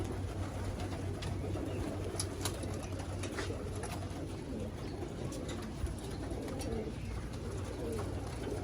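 Continuous soft cooing from many racing pigeons waiting for their evening feed fills the air, with brief sharp chirps and light background noise.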